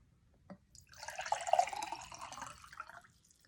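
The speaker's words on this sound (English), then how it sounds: "Let's pour into the work cup." Liquid is poured into a cup, a soft, faint trickle and splash lasting about two seconds in a quiet room.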